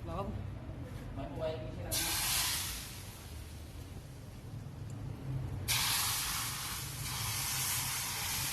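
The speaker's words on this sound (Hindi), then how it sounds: "इसका तड़का हमने हलीम में ऐड करना है" Hot cooking oil tempering poured over beef haleem, giving two bursts of loud broad hissing sizzle, the second starting partway through, over a steady low background rumble.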